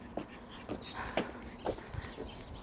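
Dogs raise a commotion at a cat, giving a run of short, close yelps and whining barks at irregular intervals.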